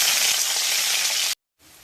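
Onion frying in hot oil with mitha kath for tempering gives a loud, dense sizzle that cuts off abruptly, followed by a brief silence and a fainter returning hiss.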